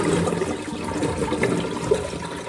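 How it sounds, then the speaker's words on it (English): A toilet flushing with the water supply shut off during a fill valve replacement, a steady rushing, gurgling wash of water up close, moderately loud and without talk. "and then I'm gonna flush the toilet."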